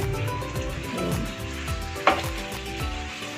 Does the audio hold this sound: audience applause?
no